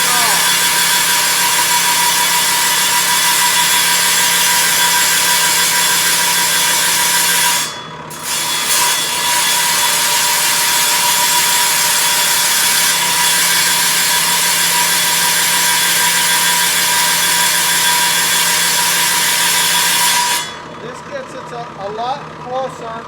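A wet rock saw cuts through stone, giving a loud, steady grinding whine that holds for about twenty seconds, with one brief dip partway through, before the cut ends and the noise drops away.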